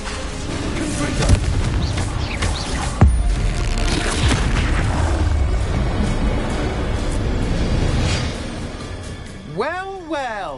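Confringo fire spell blasts in the video game Hogwarts Legacy, loud booming explosions over a dense rumble of combat effects. A voice shouts spell names over the noise, and a rising whoosh sweeps in at the end.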